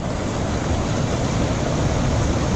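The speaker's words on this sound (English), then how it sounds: "Water is melting from the top of the glacier, and water canals are joining each other, increasing in force" Glacier meltwater rushes in a steady, loud broadband roar as channels on top of a Himalayan ice sheet join and pour into a deep moulin shaft, with constant wind and water noise and no talking.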